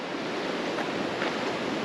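Rushing water of a clear river near a campground, a loud, steady, broad roar of flowing water heard close up, with no talking.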